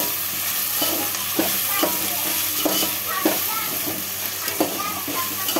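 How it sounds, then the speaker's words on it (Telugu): Tomatoes and onions fry in a pan with a steady, close sizzle, broken by regular scraping strokes of a spoon stirring them about every second. "కొంచెం వేగాలి. పచ్చివాసన పోయే వరకు వేగాలి."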